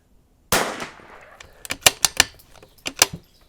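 A Vudoo V-22 rimfire rifle fires at a 50-yard target on an outdoor range, one sharp crack with a decaying tail followed by a series of quick, lighter clicks and snaps of handling.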